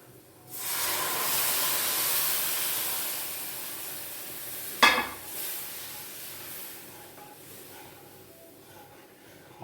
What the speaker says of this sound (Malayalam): നമുക്കിതിലേക്ക് പുളിവെള്ളം ഒഴിച്ചു കൊടുക്കാം.